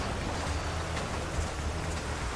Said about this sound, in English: The rain! It's the rain!